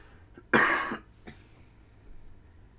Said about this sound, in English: And I've got a little bit of a cough today